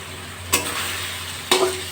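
Ground spices fry in a pan for a Bengali potato and green banana curry, giving a steady close sizzle with two sharp scraping clicks of a spatula against the pan, about a second apart.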